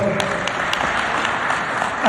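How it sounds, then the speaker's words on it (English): An audience at a municipal investment summit applauds, a steady, dense wash of clapping held at an even level throughout and fairly loud. "another round of applause"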